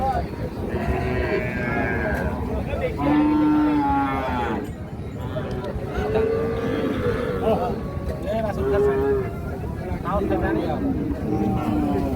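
Cows and a young heifer at a busy rural cattle market, with low drawn-out moos rising over a constant crowd murmur and nearby voices talking.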